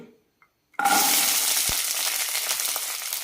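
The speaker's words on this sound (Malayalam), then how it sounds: "വെളുത്തുള്ളി വഴറ്റുന്നത് നല്ലെണ്ണയിൽ തന്നെയാണ്" About two hundred grams of garlic hits hot sesame oil in a pan for lemon pickle, bursting into a loud, steady sizzle after a brief quiet start, with a faint utensil tap.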